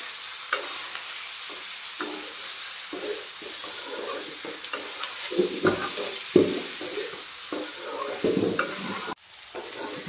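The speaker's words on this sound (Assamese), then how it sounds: "ধুনীয়াকৈ ভাজি আছোঁ" Pork seasoned with salt and turmeric fries in its own rendered fat, with a soft sizzle under repeated scraping and knocking stirs of a spatula against the pan, close and irregular.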